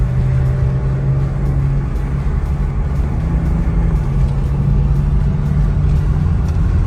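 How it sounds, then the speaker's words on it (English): A BMW E36 driving smoothly in traffic, heard as a steady, loud engine and road rumble with a low hum that holds without pause and carries no talk. "The vehicle drives straight, no vibration in the steering wheel, and everything is looking pretty smooth as far as the car goes."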